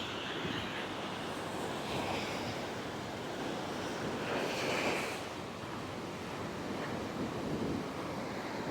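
Ocean waves break and wash onto an Indian Ocean beach at Arichal Munai, India's southern land's end. The surf rumbles in a continuous, rolling wash with swelling surges and a little wind buffeting, and no voices are heard.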